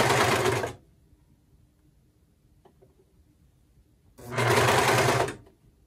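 A serger sewing machine stitching twill tape into a seam runs in two loud, fast-whirring bursts separated by a few seconds of near silence.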